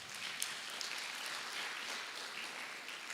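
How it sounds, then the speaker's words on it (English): Steady applause from the audience at a national youth SDGs pre-conference, a soft, even patter of clapping with no talk over it. "Guys, clap for her."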